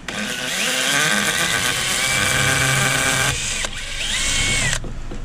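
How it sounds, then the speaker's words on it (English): A power drill whines loudly and steadily as it bores through a rubber grommet on a Ford F-150 pickup tailgate, its pitch dipping briefly twice as the bit bites and releases. "I just want to puncture this with the drill"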